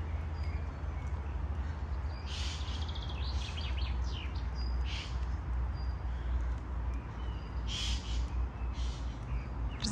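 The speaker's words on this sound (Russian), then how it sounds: "Разговаривают, слышите, птицы между собой." Crows cawing and birds calling back and forth outdoors on a green wooded path, with several bursts of calls spread across steady ambient background noise.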